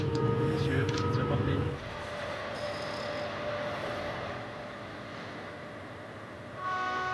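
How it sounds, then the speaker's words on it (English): A TGV high-speed train runs along the track during a speed record run, a broad rumbling roar with a brief louder low-pitched surge at the start, then a steady distant rush with faint tonal whines. "That looks like an aerodynamic train."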